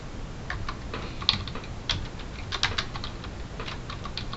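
Computer keyboard typing while writing code, a quick irregular patter of light key clicks at moderate closeness, steady throughout with no talk.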